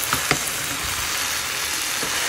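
Vegetables frying in a pan before Maggi noodles are added, an even, close sizzle with a few light stirring taps near the start and end.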